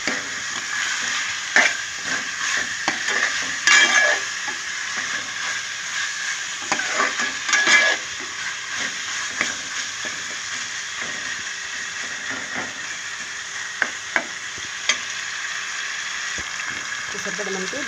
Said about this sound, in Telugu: చూసారు మనకి బాగా ఫ్రై అవుతుంది జీడిపప్పుని కైమా మటన్ కైమా.